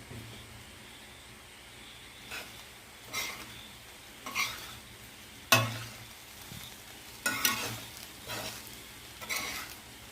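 Egg fried rice with soy sauce is tossed and stirred in a pan over a soft continuous sizzle, with a spatula scraping in repeated, fairly evenly spaced strokes, close but not loud.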